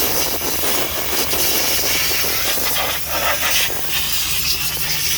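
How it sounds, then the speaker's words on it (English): An air blower hisses in continuous bursts of compressed air, clearing debris from around the diesel injectors of a Ford Courier engine, close and loud with small dips in strength. "get your air blower and blow out any of the debris or dirt that's around where the injector is going to come out"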